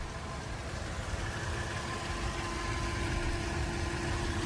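A Range Rover L322 engine idles under the open hood with a low, even rumble, steady and quiet throughout, with no talking.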